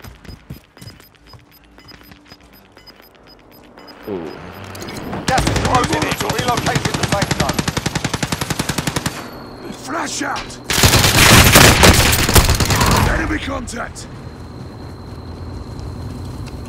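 Machine gun fire in Call of Duty Modern Warfare rattles in two long, loud sustained bursts with rapid evenly spaced shots, split by a short gap, with other game sounds and a voice heard faintly around them.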